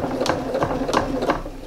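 Sewing machine stitching the bound edge of a small fabric bag, a close mechanical whir in short bursts with ticking needle strokes and brief pauses.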